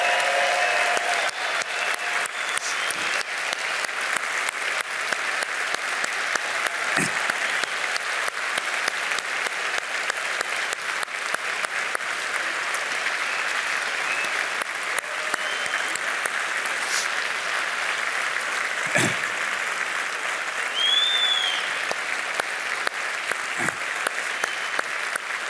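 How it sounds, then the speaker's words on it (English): A large convention audience at the Rotary International Convention 2023 applauds the Ukrainian Rotary delegation: a steady, dense wash of clapping that holds evenly for the whole stretch, loud and unbroken. "give them a round of applause"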